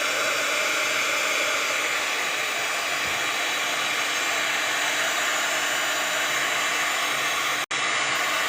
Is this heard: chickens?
no